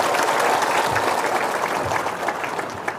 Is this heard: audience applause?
yes